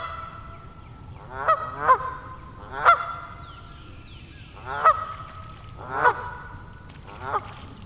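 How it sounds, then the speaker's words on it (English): Geese on a pond honk in a series of about six loud, clear calls spaced a second or so apart, with no talking over them. "Oh look, there's some geese on the pond."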